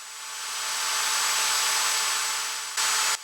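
A drill bores into a snapped wheel bearing bolt on an LX 300 Magnum Charger, lubricated with cutting oil, giving a steady, close, continuous whir that holds level and then shifts briefly near the end.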